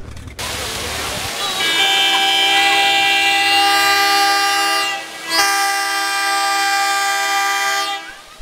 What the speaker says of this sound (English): But hey, there's our train.